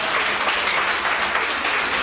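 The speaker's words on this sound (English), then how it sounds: "Give him a big round of applause!" An audience at a summer reading kickoff event at a library claps in a steady, dense burst of applause that fills the whole short stretch at full volume.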